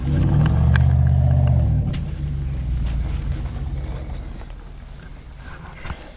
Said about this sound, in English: Finally getting this trailer out of here.